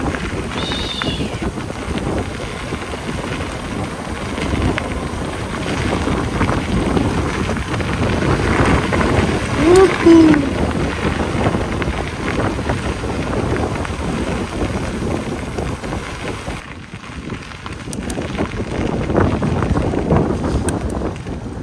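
Strong wind buffets the microphone during a group bike ride in Benedito Novo, making a loud, steady roar that covers the whole stretch and drops off briefly near the end.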